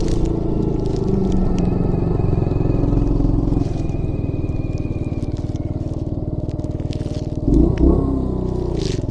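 A 1980 Yamaha XT250 motorcycle idles slightly high during a carburetor test. The steady, loud, close chugging runs throughout, with a brief rougher burst near the end.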